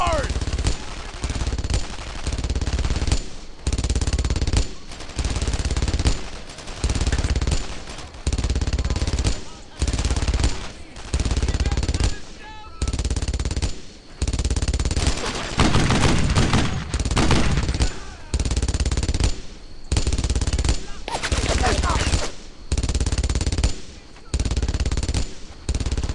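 A machine gun in the World War II game Brothers in Arms: Earned in Blood hammers out loud, close bursts that repeat with short regular pauses over about half a minute.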